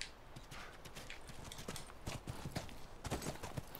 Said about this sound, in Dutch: Sterker nog, de paarden komen naar ons toe.